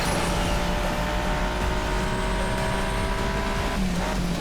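A Lamborghini Miura roars along with nitro boost in the racing game Asphalt 8, a loud, steady engine drone with faint tire noise, unbroken for the whole stretch.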